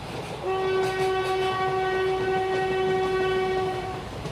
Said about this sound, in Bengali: ট্রেন তখন জঙ্গলের ভিতর ঢুকে গেছে।